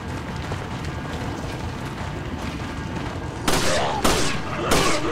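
Three sharp, loud gunshots ring out in Resident Evil 4, spaced about half a second apart near the end, over a steady rumbling game background.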